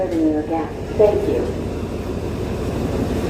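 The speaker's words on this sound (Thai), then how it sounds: "โอ้ยมีรถไฟมานะครับ" A Thai ordinary passenger train on the Ratchaburi to Nakhon Pathom line rumbles in from a distance, its low steady roar building, with a couple of brief tonal horn-like notes early on.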